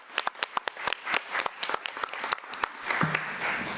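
Applause from an audience at a county school district committee meeting, a scattered round of individual claps that thickens into steady clapping, heard fairly close with no talking.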